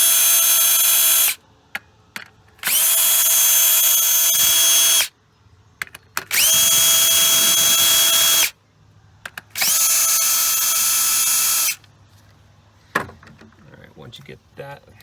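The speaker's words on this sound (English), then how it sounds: "we can go ahead and start removing these 10mm bolts" A cordless power tool unscrews 10mm bolts on the 2.4L engine of a 2015 Chevrolet Equinox, in four loud, steady whirring bursts of about two seconds each, separated by short pauses with small clicks and handling noises.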